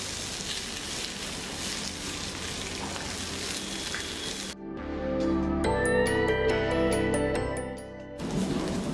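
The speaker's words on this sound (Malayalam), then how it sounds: "അപ്പോൾ ഒന്ന് നമുക്ക് ഷാലോ ഫ്രൈ ചെയ്തെടുക്കാം" Jackfruit pieces shallow frying in a little oil in a pan give a steady, dense sizzle that drops out briefly, then returns over a low hum before the crackle resumes.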